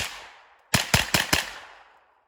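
A Tavor X95 9mm bullpup rifle fires four sharp, loud shots in fast succession, each followed by a short echo, with a quiet lead-in and a fading tail.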